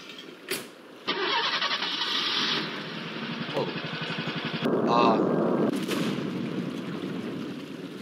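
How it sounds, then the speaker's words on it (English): A rocket launches in the Henry Stickmin video game: a sudden loud, broadband roar kicks in and holds steady for several seconds, swelling into a heavier rumbling blast partway through before easing off. "Rocket."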